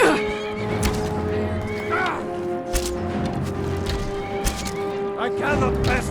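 A horse in the video game Skyrim neighs and whinnies repeatedly amid in-game clatter and hoof sounds, with someone talking over the action.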